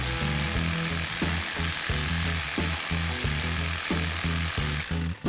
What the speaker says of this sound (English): Then we cut along the lines using a jigsaw.